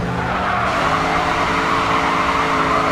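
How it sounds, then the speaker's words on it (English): A race car in GRID 2 drifts around a corner, its tires squealing steadily over a loud, sustained engine drone. "Get a drift on around that corner."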